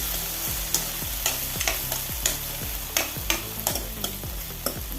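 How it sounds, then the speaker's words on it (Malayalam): Chopped tomato is stirred in a sizzling pan for dal curry, a steady soft frying hiss with repeated scraping stir strokes and clinks at a regular rhythm, close and moderately quiet, with no voices. "ഒരു വലിയ തക്കാളി അരിഞ്ഞ് ചേർത്ത് കൊടുക്കണം ഇങ്ങോട്ട് ഇളക്കി കൊടുത്ത്"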